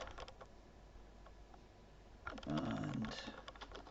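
Computer keyboard keys clack quietly in short scattered taps, with a denser cluster of presses near the end, while setting up a Meade ETX-80 achromatic refractor telescope connected to a 5-volt hub; no one speaks.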